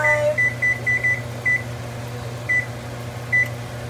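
Oven control panel beeping while being set to preheat to 375, a run of short electronic beeps in quick succession followed by a few spaced single beeps, over a steady kitchen hum.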